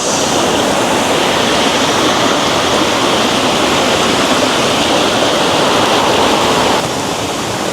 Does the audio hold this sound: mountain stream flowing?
yes